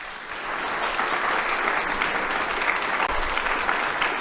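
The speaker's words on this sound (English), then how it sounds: "help me give Krista a big round of applause" An audience claps after a presentation, a brief, even burst of applause that swells quickly and stays steady for a few seconds.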